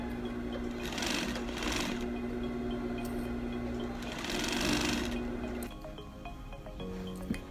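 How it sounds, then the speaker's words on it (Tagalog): Sewing machine stitching around the edge of a zippered cushion pillowcase, a steady close whir with short bursts and pauses, faint background noise in between. "Tapos, tahiin natin ng palibot sa gilid."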